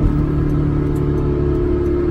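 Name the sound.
Honda S2000 AP1 sports car driving and revving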